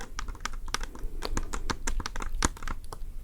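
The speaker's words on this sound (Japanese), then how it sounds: "今日の動画はホワイトボードを書いていく" A marker writes on a whiteboard in a quiet ASMR recording, making quick, close, dry squeaks and taps in an uneven stream.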